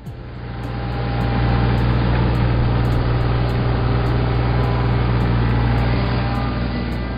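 A tractor engine runs steadily with a low, droning hum and strong low-end rumble, starting softly and holding a constant loud level throughout with no speech.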